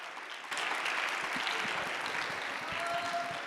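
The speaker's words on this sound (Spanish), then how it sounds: "Démosle un caluroso aplauso a nuestra conferencista del día de hoy" Applause from a conference audience welcoming a speaker at an international design congress, a dense steady clatter of clapping that swells in after half a second and holds loud to the end.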